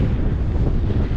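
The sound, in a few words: wind blowing on microphone during bike ride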